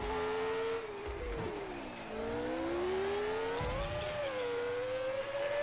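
Engine whine of a race car in the racing video game New Star GP, a tonal drone rising and dipping in pitch through gear changes and revs, with brief bursts of tire noise.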